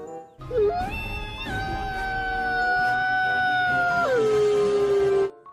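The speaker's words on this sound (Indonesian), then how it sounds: "wadidaw ada serigala" A wolf lets out one long, loud, sustained howl, rising at the start and sliding down near the end, heard up close and alone.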